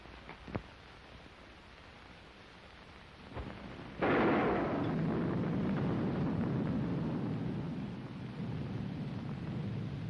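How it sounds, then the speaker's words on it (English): Steady rain pours down outside during a storm, a dense hiss that swells suddenly after a deep thunder rumble and holds loud and even, with no voices. "The rain ought to let up soon."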